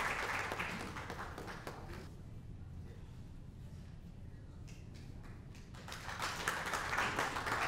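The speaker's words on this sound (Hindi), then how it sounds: "आपकी तालियां भी एक सम्मान के समान हैं।" An audience applauds at the Dr. B R Ambedkar International Pride Award 2025 ceremony. A loud burst of clapping at the start dies down to a quieter murmur, then swells again toward the end.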